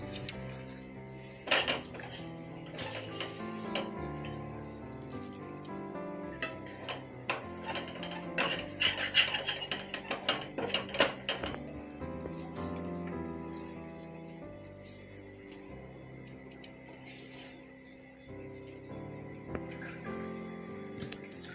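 Coconut chikki mixture being scraped out of a pan onto a plate with a utensil, giving repeated close metallic scrapes and clinks over soft background music, with no talking.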